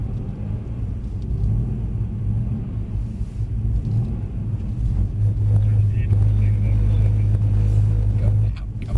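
A Mercedes C63 AMG trickles around a skid pan in third gear, its engine a steady low rumble with gentle swells in revs, while people talk over it throughout.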